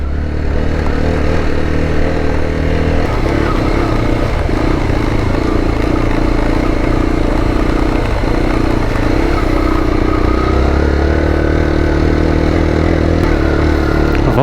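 A motorcycle engine rumbles steadily on a dangerous dirt mountain road, with loud, continuous clattering and revving close by as the rider picks his way over the rough ground.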